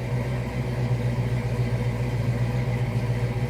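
A 1970 Dodge Challenger R/T convertible idles in neutral, a steady low engine hum with a constant droning tone, close and even throughout with no voices.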